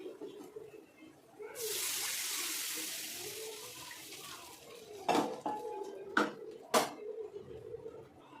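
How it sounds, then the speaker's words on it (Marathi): Water is poured into a cooking pan of turmeric and cumin while making Maharashtrian shingole: a steady rushing pour that lasts about a second and a half, then a few sharp metal clinks and scrapes of utensils against the pan. "आता यामध्ये आपण पाणी घालून घेऊया।"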